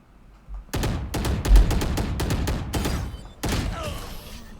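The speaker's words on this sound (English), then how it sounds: "So I'm going to drop my orb down here, and then the Viper is going to shoot at me." Viper's gunfire strikes Harbor's orb shield in the Valorant shooter game: after a short quiet start, a rapid string of sharp, loud gunshots cracks out in bursts, pauses briefly, then resumes with another volley.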